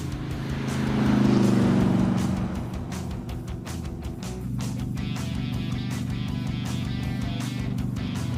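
A 1975 AMC Pro Street car with big, massive rear tires drives along, its engine a steady, loud low drone that swells early, then settles into a constant rumble.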